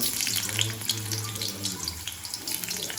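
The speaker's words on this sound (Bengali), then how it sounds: "আলুগুলো লাল করে ভেজে নেবো আমরা।" Potatoes frying in hot soybean oil give a steady bubbling hiss that holds close and fairly loud throughout, with no talking.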